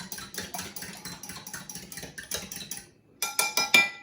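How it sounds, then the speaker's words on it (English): Eggs whisked into milk with a fork in a bowl, producing quick rhythmic clicking and tapping at close range in bursts, then a brief pause before a final flurry of strokes. "with a fork I'm just going to whisk the eggs into the milk, whisk them around"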